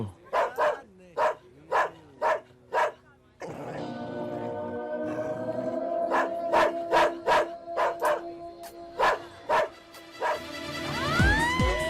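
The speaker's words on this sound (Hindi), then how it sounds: "किसका कुत्ता है ये?" A dog barks in sharp, evenly spaced bursts in a Bollywood horror-comedy film scene, then steady music takes over briefly before the loud, close barking returns in a second rapid run.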